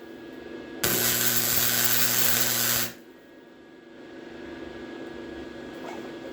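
A welder lays down a cap weld pass: about two seconds of steady, harsh hiss and buzz at close range, then it cuts off to quiet room noise.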